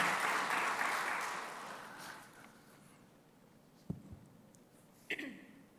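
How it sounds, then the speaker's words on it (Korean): Church congregation applauding during a Sunday evening baptism service; a brief burst of clapping fades out within a couple of seconds, leaving a quiet room with a few soft knocks. "그렇게 박수로 격려해 주시면 감사하겠습니다"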